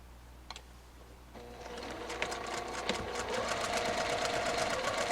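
A sewing machine stitches a face mask seam and backstitches, starting after a quiet moment with a couple of clicks, then settling into a steady, rapid mechanical chatter that grows louder and continues to the end.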